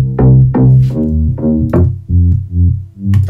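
Two stacked sub bass synth layers play together in a deep, heavy line of several sustained notes, loud and full, with a few brighter transient hits on top and no talking.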